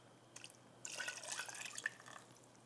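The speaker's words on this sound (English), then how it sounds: "an extra cup of water" Water poured into a cooking pot of cabbage and vegetables for Senegalese mafe, a faint close trickle and splash that swells for a couple of seconds, with no talking.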